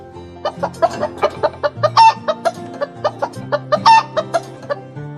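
Chickens cluck repeatedly in short, choppy bursts, close by, with a few louder squawks mixed in.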